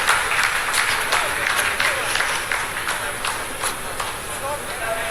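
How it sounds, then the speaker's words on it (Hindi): Scientists burst into sustained applause at the Chandrayaan-3 lunar landing, a dense patter of clapping from a room full of people under a voice. "आप इस तालियों के गड़गड़ाहट को सुन सकते हैं"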